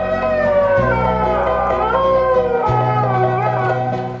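Dog howling, a sustained wavering cry with shifting pitch, loud and close, holding for about four seconds with no talk.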